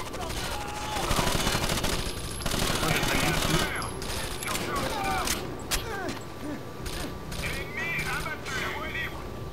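Automatic gunfire bursts and single shots ring out in the video game Rainbow Six Vegas 2, dense rapid volleys under an ongoing voice and game noise, with sharp cracks scattered throughout.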